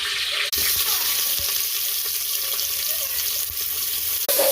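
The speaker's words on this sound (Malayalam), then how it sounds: "ഉള്ളി ഇട്ട് കൊടുക്കാം" Chopped onions sizzling in hot ghee for chicken biryani, a steady broadband frying hiss with occasional soft stirring knocks and brief dips where the pan is disturbed.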